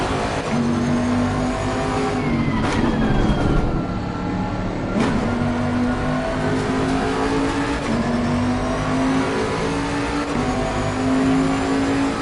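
A race car in Assetto Corsa drones with a steady engine note, its pitch dipping under braking and gear changes around a corner before climbing again as the car accelerates, loud and continuous.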